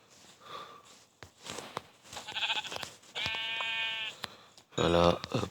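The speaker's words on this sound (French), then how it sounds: "Donc on va commencer à tuer des moutons." Blocky sheep in Minecraft bleat several times in quick bursts, close and fairly loud, with brief game sound effects between the calls while animals are being killed.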